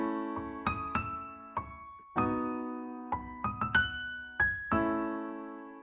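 The Skeleton Crew theme plays on a sustained, keyboard-like instrument, with chords underneath and a melody line on top, moving through several held chord changes alone and fairly quiet.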